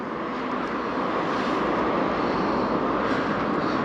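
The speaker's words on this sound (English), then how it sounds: "that's the drone up." A drone flies overhead outdoors, giving a steady, fairly loud broadband whirring rush that holds constant throughout with no speech.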